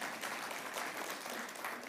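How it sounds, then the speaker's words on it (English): Audience at a business awards event clapping, a faint, dense, even patter of applause from a crowd, steady for the whole stretch. "Can we give him a round of applause"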